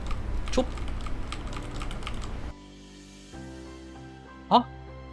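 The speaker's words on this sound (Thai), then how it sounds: "อันนี้คือผมยังกดคีย์บอร์ดอยู่เหมือนเดิมนะครับ" Rapid keyboard typing clatters steadily for a couple of seconds, then drops to a faint hum with a brief sharp click near the end.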